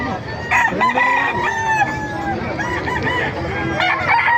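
Several Kelso roosters crow over one another in a busy, noisy setting, their long cock-a-doodle-doo calls overlapping, with clucking and background bustle.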